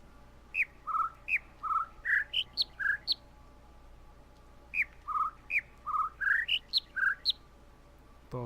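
Birds in The Witness video game sing two runs of short, clear whistled chirps that step up and down in pitch, evenly spaced and close, separated by a brief pause.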